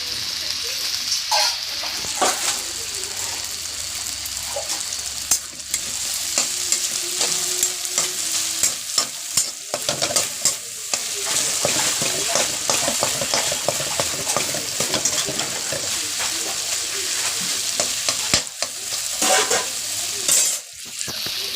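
Food frying in a hot pan with a loud, steady sizzle, broken by frequent scrapes and clatters as it is stirred throughout.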